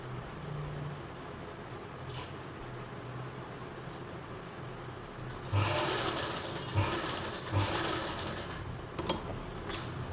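A sewing machine stitches a blouse lining close to the zip, with a low motor hum early on and then a few loud bursts of rapid stitching, each starting and stopping in short runs.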